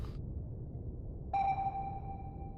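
A single submarine sonar ping rings out in the naval game Cold Waters, a bright tone that decays slowly over a low, steady underwater rumble.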